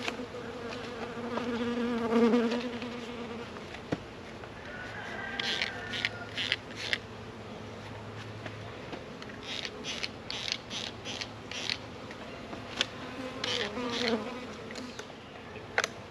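A dense swarm of honey bees from a package being installed hums steadily up close, with scattered sharper buzzes of individual bees darting past.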